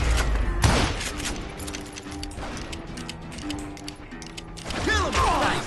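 Gunfire sounds in the Call of Juarez Gunslinger Western video game as scattered sharp shots and clatter, with game voices and effects around them.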